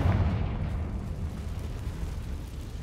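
A Confringo fire-blast spell goes off in Hogwarts Legacy, a loud booming burst at the start that settles into a sustained low rumble and roar for about three seconds.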